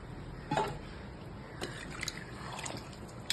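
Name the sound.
water being poured into rice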